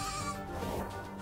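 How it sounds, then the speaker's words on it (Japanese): A single short goat bleat from the 2D platformer video game Bean and Brew, loud, close and wavering, with no talking. "ヤギさん"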